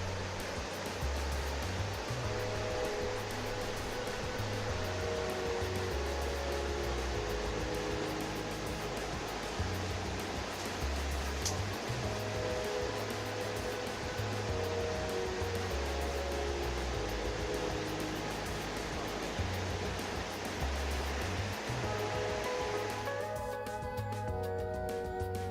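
A river flows far below a steep, rugged descent, giving a constant broadband rushing roar that stays even throughout, with a faint low rhythmic rumble underneath and no voices.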